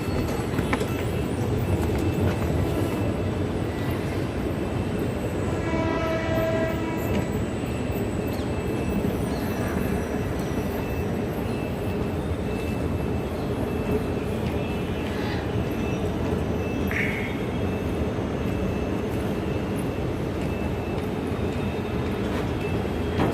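A train moves through a railway station with a steady rumbling roar and clatter, and a short horn blast sounds briefly in the background early on.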